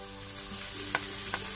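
A sauce is sautéed in a pan as tomato ketchup goes in, a quiet steady sizzle with a couple of faint utensil clicks against the pan.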